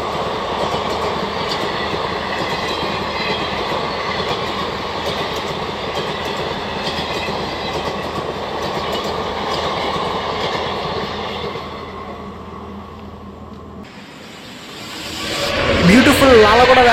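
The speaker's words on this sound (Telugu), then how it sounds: "అది Silchar Secunderabad super fast express అండి." The Silchar–Secunderabad superfast express rolls by in India with a loud, steady rumble and rattle for about twelve seconds before it fades, and a voice speaks at the end.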